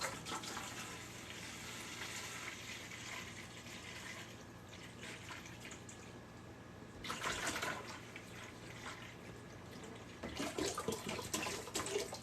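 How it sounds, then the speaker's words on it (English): Water is poured into a bucket while making strawberry jam mead: a soft, continuous splashing trickle that swells into louder gushing bursts near the middle and end, close and fairly quiet. "The other half of the gallon of water we're going to put into the bucket."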